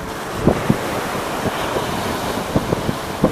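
Wind buffets the microphone over a steady roar of large ocean surf on Manila Bay, with small splashing knocks of water and floating trash scattered throughout.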